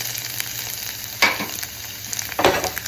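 Garlic fries in hot oil with a steady close sizzle, broken by two sharp bursts of louder crackling and scraping as it is stirred in the pan.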